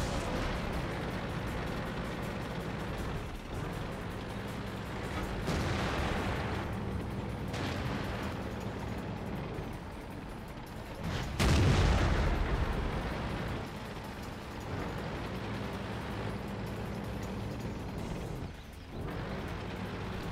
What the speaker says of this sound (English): they're just still shooting my turret